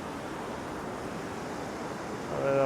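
Surf rolling in on a beach as the tide pushes in during a sea fishing match, a steady wash of waves with wind, faint and continuous, swelling slightly at the end.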